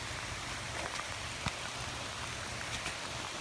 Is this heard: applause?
no